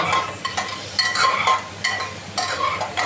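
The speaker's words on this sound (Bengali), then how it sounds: "এবার মশলাটাকে একটু নাড়াচাড়া করে" Masala spice mix being stirred in a cooking pot, a spoon scraping repeatedly in short bursts with a faint sizzle beneath, close and fairly loud, no talking.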